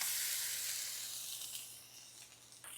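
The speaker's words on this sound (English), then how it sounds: "get our jalapenos and onion on the griddle" Jalapenos and onion sizzling on a Blaze griddle for a brisket grilled cheese, a soft, steady hiss of frying that gently fades, with a faint clatter near the end.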